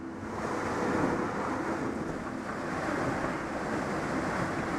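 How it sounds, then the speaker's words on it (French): Loud, continuous roar of rough sea surf and wind buffeting the microphone aboard a Vendée Globe racing yacht, a steady broadband rush with no voices. "il y a du vent, mais c'est la mer surtout qui est forte"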